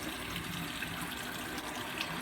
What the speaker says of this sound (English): So basically just run water through until all the chemical's out of it.